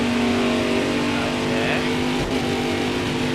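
A NASCAR Heat 4 race car engine holds a loud, steady high-revving drone near redline, with a brief dip as it shifts, continuous and close.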